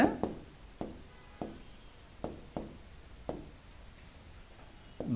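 Pen scratching on paper while working a class 7 math assignment, a series of close, soft strokes and taps spaced about half a second apart in a quiet room.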